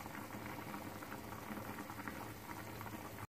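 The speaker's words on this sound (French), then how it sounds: "je vais la couvrir et laisser cuire tranquillement sur un feu doux mes pâtes" Tleytli pasta simmers covered in sauce over low heat, a faint, steady bubbling and gurgling that runs evenly before cutting off abruptly at the end.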